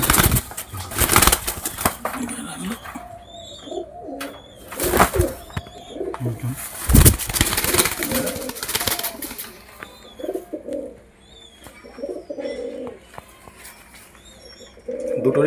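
Female pigeons cooing in a loft, soft repeated low coos with occasional chirps and wing flutters, close by, with someone talking intermittently over them.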